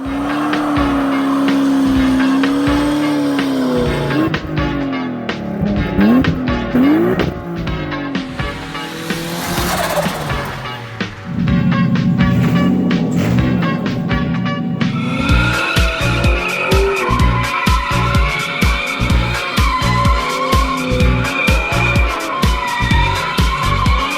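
A Mazda RX-7 FB rotary engine revs hard and loud, with rising and falling pitch sweeps, then settles into a rapid, choppy pulsing idle-to-rev pattern near the microphone.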